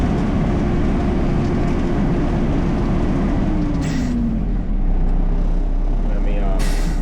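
The packer blade of a garbage truck runs with a loud, continuous mechanical rumble and hydraulic drone. A faint rising whine passes midway through.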